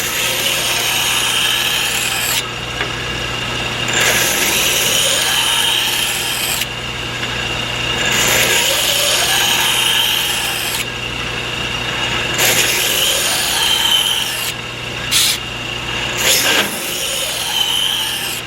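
A mystery-steel knife blade being ground on a jig in repeated long passes, each a harsh abrasive rasp rising and falling, with a steady motor hum underneath throughout, close and loud with no voices.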